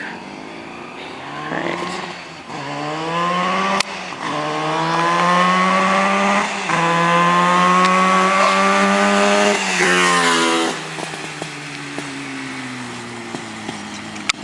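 A 1977 Yamaha RD400 two-stroke motorcycle running on premix revs up sharply several times, its buzzing, ringing wail rising and falling before it settles back to idle, with one brief spoken word.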